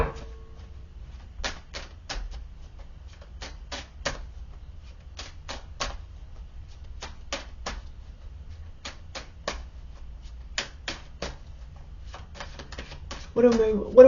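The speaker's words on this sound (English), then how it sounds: "Let me pull some more cards." Tarot cards shuffled and pulled in a quiet room, brief crisp snapping flicks arriving in small clustered bursts of two or three, close and sharp over a low hum, with handling noise rising at the end.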